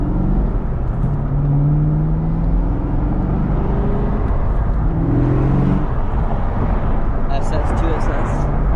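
A 2019 Chevrolet Camaro ZL1 1LE track car, fairly quiet in stock form, drones steadily from inside the cabin while driving on an empty street, a low engine hum with slight rises in pitch and tire and road noise.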